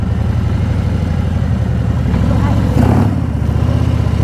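A motorcycle engine runs steadily and loudly close by, a constant rumble that swells briefly near the end, with no talking.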